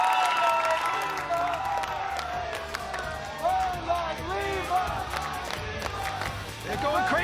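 A crowd cheers and applauds at a World Poker Tour event in the Esports Arena, a loud continuous roar with clapping and shouting voices throughout, swelling again near the end.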